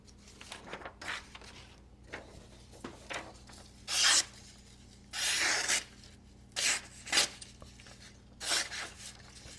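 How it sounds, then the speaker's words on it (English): Fixed blade knife slicing through paper, heard as a series of short dry rasping and tearing strokes, several of them louder bursts, with quiet gaps between the cuts and no talking. "What I judge is the amount of noise and resistance I get as it's cutting through the paper."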